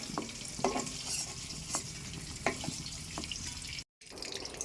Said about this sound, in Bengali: এবার আলুগুলোকে ভেজে নিচ্ছি।